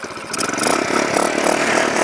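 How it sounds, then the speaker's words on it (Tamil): An old motorcycle engine repurposed to drive an earth auger runs steadily and loudly, a continuous buzzing drone with a rapid firing pulse and no talking over it. "நம்மளுக்கு இப்போ இன்ஜின் ஸ்டார்ட் ஆகிடுச்சு"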